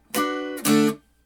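Two strummed electric guitar chords ring out close and fairly loud, the first held about half a second and the second slightly longer, each cut short before the clip fades to near silence.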